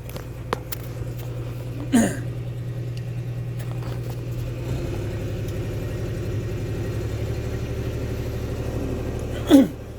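A tractor engine at a construction site idles at a steady set RPM, a constant low drone with a slight shift in pitch midway and two brief squeaky mechanical noises over it.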